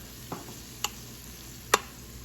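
Garlic and two tablespoons of curry paste drop into a hot Instant Pot for beef curry, giving three short sizzling clinks and stirs, the last one loudest, over a quiet background.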